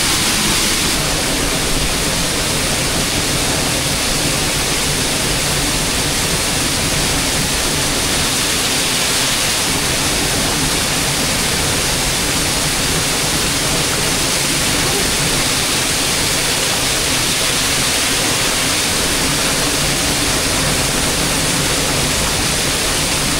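A waterfall in a forested area of the Philippines, water pouring down in a dense, steady roar that fills the whole clip, loud and close with no breaks.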